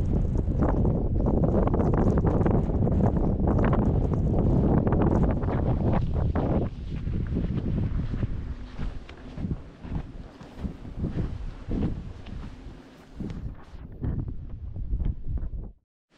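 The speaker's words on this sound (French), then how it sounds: "Comme vous pouvez le voir, je suis sous la tente, il pleut, je sais pas si ça s'entend." Wind gusts and rain batter a tent pitched in coastal dunes, a loud continuous roar for most of the stretch that eases into patchier buffeting with scattered taps before cutting out at the end.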